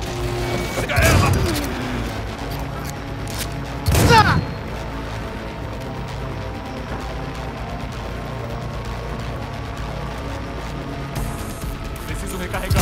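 Gunfire in Cyberpunk 2077 comes as two loud bursts of shots roughly three seconds apart, over a steady game soundscape with a low mechanical hum.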